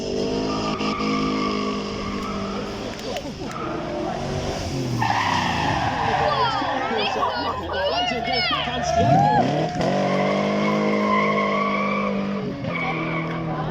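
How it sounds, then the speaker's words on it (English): Ginetta V8 sports car (5-litre V8) revving hard on a supercar demonstration run, engine note rising and falling with a brief tyre squeal, heard at moderate distance beneath a commentator's talk. "Our driver's not afraid to give it noise. Let's hear a V8 sing."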